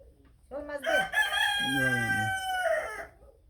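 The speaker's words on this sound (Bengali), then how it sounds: "মুরগিতে আবার কথা কবার দেয় না তার আগে চিল্লিয়ে ওঠে" A single loud rooster crow close by, drawn out and rising then falling, with no talking.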